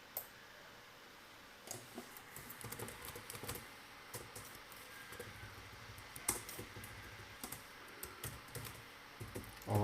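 Someone types on a computer keyboard in quick, irregular bursts of soft key clicks, close and fairly quiet against a faint background hiss.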